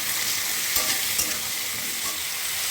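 Diced potatoes fry in hot oil with cumin, hissing in a steady bright sizzle, with a few scraping stirs of a spatula in the pan.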